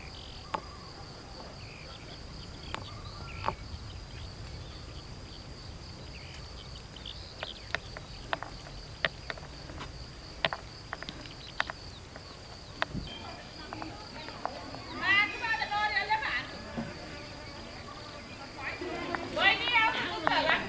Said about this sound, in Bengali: জোরে জোরে ডাকছে ঝিঁঝি পোকা